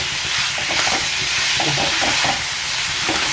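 Squid stir-fried dry with curry leaves and pepper hisses in a loud, continuous sizzle, broken by intermittent scraping and clatter of stirring.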